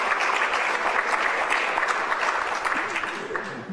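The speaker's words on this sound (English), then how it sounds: "so give them applause" An audience at an awards ceremony applauds volunteers, a dense, steady burst of clapping close by that carries on for several seconds before easing slightly.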